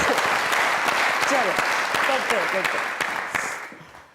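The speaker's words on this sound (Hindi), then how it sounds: "अरे तालियां!" Studio audience at a Pakistani comedy talk show bursts into loud, sustained clapping that fades out toward the end, with a voice speaking over it.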